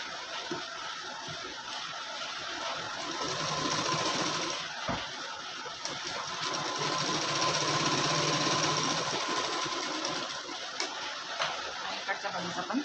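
A sewing machine stitches tucks on a blouse with a steady, fast mechanical whir and ticking that swells and eases across the run, fairly faint, while someone talks over it.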